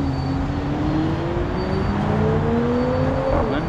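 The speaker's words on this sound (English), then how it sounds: "Wait for one more cars to go." A car passes on the street close by, its engine and tyre hum rising in pitch as it goes, loud and steady for a few seconds with no voices over it.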